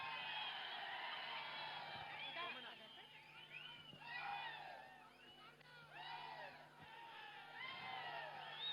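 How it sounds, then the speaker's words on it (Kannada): A large crowd at a victory celebration rally in Mandya cheers and whoops for actor Nenapirali Prem, a continuous distant roar with repeated rising shouts and whistles, fairly faint overall. "ಚಪ್ಪಾಳೆ ಕೊಡೋಣ."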